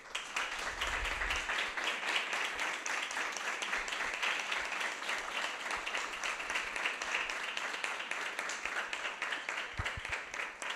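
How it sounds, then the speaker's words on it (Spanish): An audience at a feminist lecture series at UNLP in Argentina applauds in homage to Norita Cortiñas, a steady, even patter of many hands heard from a distance and fairly faint, lasting about ten seconds. "quería proponer hacer un aplauso en homenaje justamente a Norita"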